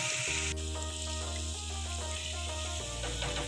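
Potato pakoras sizzle steadily in hot oil over a low-medium flame, a dense continuous frying hiss with a faint background hum and no speech.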